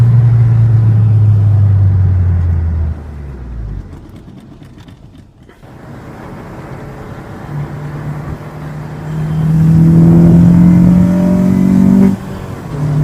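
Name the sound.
Honda Civic Si K20Z3 naturally aspirated engine revving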